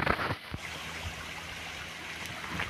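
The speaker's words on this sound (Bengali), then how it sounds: "এটা সম্ভবত সাঙ্গে থেকে নিচে নেমে এসেছে এই ঝর্ণাটা।" Changey Waterfall near Lava, a Himalayan mountain stream tumbling over rocks, makes a steady, full rush of flowing water with a few brief knocks and clunks near the start.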